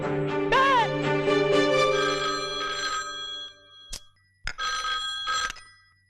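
A telephone rings in a scene from the Hindi film Chalo Ishq Laday: loud, close, bright bell-like trills that sound in a long burst, then return in shorter bursts after a brief pause.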